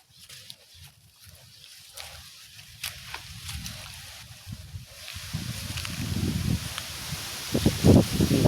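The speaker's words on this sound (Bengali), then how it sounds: "প্রচন্ড বাতাস।" Strong wind blowing outdoors across open ground: low, gusty buffeting and rustling that swells and grows louder toward the end, with a few faint knocks mixed in.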